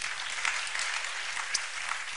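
A conference audience at a political gathering applauds, a dense steady wash of many hands clapping at once, fairly loud and unbroken throughout.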